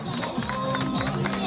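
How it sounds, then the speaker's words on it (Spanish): Applause for a third-place winner at an athletics association's 27th anniversary celebration, a crowd clapping and cheering steadily amid babble, with an announcer's voice over it. "Fuerte el aplauso para ella."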